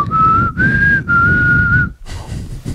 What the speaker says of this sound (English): That's whistling.